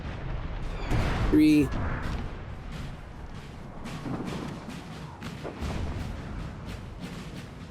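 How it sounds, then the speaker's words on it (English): Cannon fire booms in the Napoleonic battle game Napoleon: Total War during a 4v4 match, heard as a few deep distant thuds and rumbling volleys, with someone talking and counting over the battle. "Like, the thunder of artillery will never get old,"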